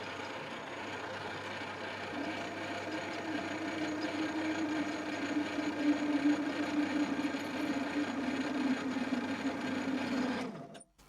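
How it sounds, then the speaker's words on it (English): A tool grinder spindle body being turned with a high-speed steel tool gives a steady, close machining whine with a rough buzzing chatter that holds for about eight seconds before cutting off abruptly. "We're getting a lot of chatter there."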